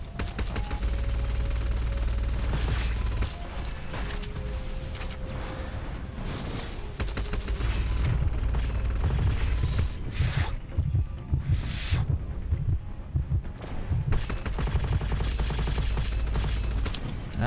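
Sustained chain gun fire in the shooter Gunfire Reborn, Anxi Desert stage, a dense rapid stream of close, loud shots with brief pauses and bursts of heavier blasts.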